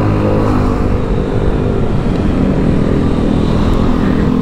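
A Yamaha XMAX Connected scooter with an aftermarket Veloscope upgrade races along the road, its engine and wind noise loud and steady from start to finish, with no voices.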